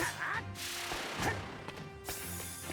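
Shots and quacking bird cries in a Danmachi video game, bursts of impacts with duck-like calls layered under a player's talking.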